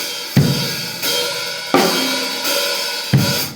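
A drum set plays a basic rock beat sloppily, with heavy kick-and-crash hits roughly every 1.4 seconds and snare strokes between them landing loosely. The beat sounds close and ringing, with no talking.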